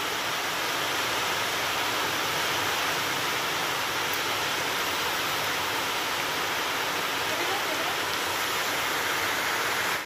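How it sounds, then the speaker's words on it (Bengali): Chicken fries in hot white oil in a wok, giving a loud, steady, even sizzle that holds unbroken for about ten seconds. "এবার এটাকে আমি ফ্রাই করে নেব"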